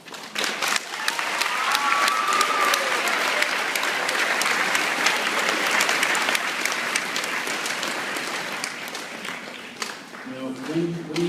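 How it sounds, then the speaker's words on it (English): An audience at a school award ceremony applauds the teachers in a long, full round of dense clapping that holds steady for about ten seconds, with a few voices and a brief spoken moment near the end. "If we could clap one more time for the teachers"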